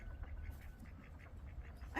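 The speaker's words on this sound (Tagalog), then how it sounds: "Duck." A duck at a botanical garden pond gives a few faint, distant quacks against a quiet outdoor background.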